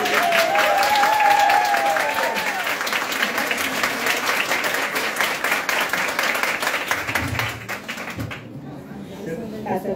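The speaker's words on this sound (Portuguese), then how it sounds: "Palmas para a Elizabeth." Applause at a veterinary assistant course graduation ceremony fills the room, loud and continuous, with a voice briefly heard over the start before the clapping fades and cuts off near the end.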